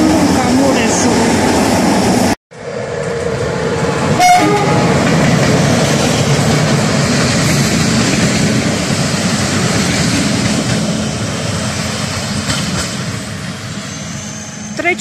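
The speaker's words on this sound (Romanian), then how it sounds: "Trece trenul la Beclean pe Someș, tocmai am ajuns" A train passes close by at Beclean pe Someș, a loud steady rumble of rolling wagons after a brief cut. Clicks on the rails sound through the roar, and faint voices can be heard under it.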